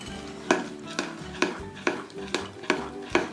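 A spoon stirs a thick homemade chocolate mixture of milk powder and cocoa in a pot, giving regular scraping knocks about twice per second, close and distinct over faint background music.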